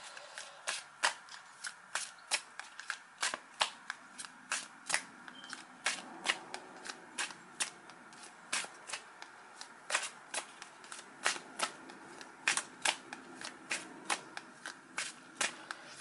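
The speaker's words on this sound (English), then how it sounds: "let me give these cards a good shuffle" Rapid, crisp riffling of a tarot deck being shuffled, repeated in quick bursts with a steady rhythm, close and fairly quiet, no talking.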